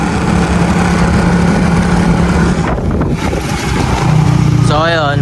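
Motorcycle engine running nearby in cold weather, a steady rumbling drone that dips briefly midway and then returns, with a short whistling warble near the end.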